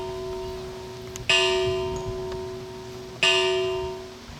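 A church-style bell tolls twice at an outdoor High Park staging of Macbeth, each strike ringing out with a bright attack and a long, slowly fading hum, heard alone with no voices.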